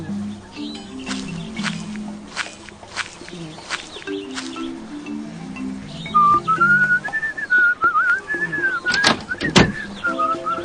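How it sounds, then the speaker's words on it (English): A character in the video game So Blonde whistles a wavering tune, clear and close over a light background game melody with plucked notes. "Your whistling is distracting me from my work."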